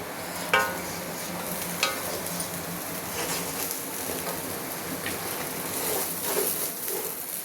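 Rice frying in ghee with a soft continuous sizzle, punctuated by a couple of sharp clicks and ongoing scraping as it is stirred, moderately quiet with no talking.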